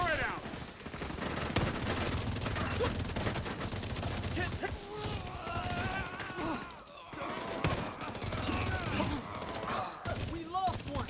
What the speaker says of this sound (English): And just letting the turret get the kills.